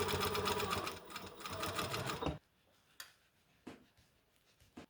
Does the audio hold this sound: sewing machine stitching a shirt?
yes